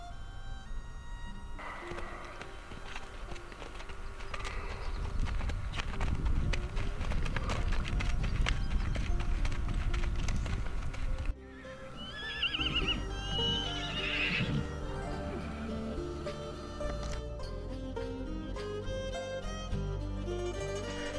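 Horses neigh and whinny repeatedly amid steady hoof clip-clop on Mongolian steppe pasture in Dundgovi province, the herd close and loud, with the whinnies growing sharper and more prominent in the later part.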